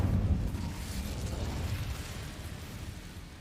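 Incendio fire spell cast in Hogwarts Legacy, a loud low whooshing burst of flame at the start that rumbles and slowly fades over a few seconds.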